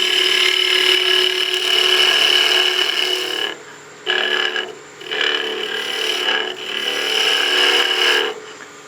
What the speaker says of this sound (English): While we're doing our planing cuts